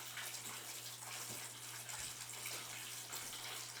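Water pouring from a restored decrepit fountain driven by a pond pump, a steady, soft splashing rush with a faint low hum underneath and no voices.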